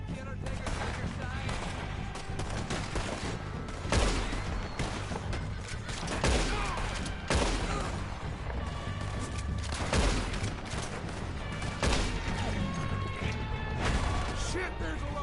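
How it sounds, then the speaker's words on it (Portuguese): Gunfire in the video game Red Dead Redemption 2 cracks out in repeated loud shots and volleys amid game noise, with voices talking over the barrage throughout. "Caraca, eu vi o tiro aqui passando"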